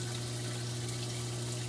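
Water runs steadily through an aquarium sump pipe, a constant close rushing hiss with a low pump-like hum beneath it and no voices.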